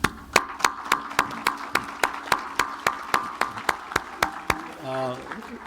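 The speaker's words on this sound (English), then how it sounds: "Just want to take a moment to give a round of applause to Solomon." Applause at a cybersecurity conference comes through as slow, evenly spaced claps, crisp and close, repeating steadily before a voice begins speaking at the end.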